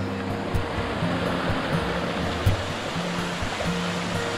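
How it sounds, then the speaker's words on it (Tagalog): Water rushes steadily at Dampalit Falls in Los Baños, Laguna, a close, continuous roar of flowing stream and cascade with a few soft knocks and no voices. "Sarap ng agos ng tubig dito."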